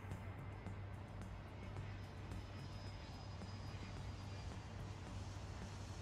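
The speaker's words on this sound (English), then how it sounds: "And the plane is being pushed back." In the Airport CEO video game, an airliner is pushed back from its gate, heard as a faint, steady engine drone and rumble that continues evenly throughout.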